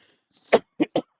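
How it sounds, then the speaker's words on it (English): Three short coughs, one then two close together, near and fairly loud. "Sorry, there's that cough sneaking back."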